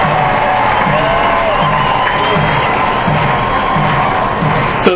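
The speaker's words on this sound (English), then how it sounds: "The crowd's on their feet, wanting to get this final out here in the top of the 8th inning from Drew Permason." Large stadium crowd at a minor-league baseball game, Spokane at Vancouver, standing and cheering in the top of the 8th inning as a pitcher chases the final out; a steady, loud roar with scattered shouts and whoops throughout.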